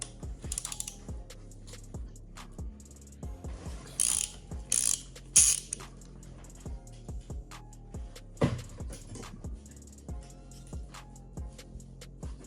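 A ratchet wrench loosens engine bolts on a sleeved Mitsubishi Evo X 4B11T engine, giving repeated close, crisp clicking bursts with short pauses between strokes and no talking.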